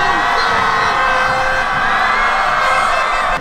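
A dense football crowd at a Melaka United match roars and chants continuously, loud and sustained with overlapping shouts and whistles throughout.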